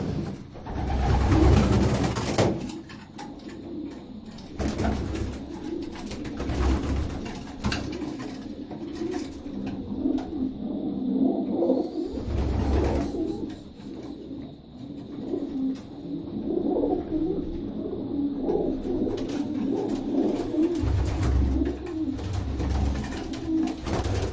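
Sport pigeons coo steadily inside a pigeon loft, soft throaty calls repeating close by over a low background, with a few louder bumps and rustles and no talking.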